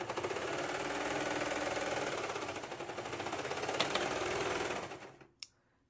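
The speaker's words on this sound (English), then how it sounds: "I turn off my serger" Serger sewing machine running steadily at close range, a dense continuous rapid stitching whir for about five seconds that then winds down and stops, followed by a single sharp click.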